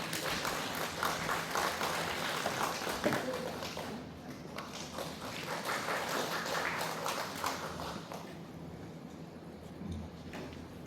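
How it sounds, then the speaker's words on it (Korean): An audience at a literary award ceremony in a concert hall gives a stage guest warm, sustained applause, heard faint and distant as a continuous patter that gradually thins out. "무대 위로 올라오실 때 큰 박수로 환영해 주시기 바랍니다"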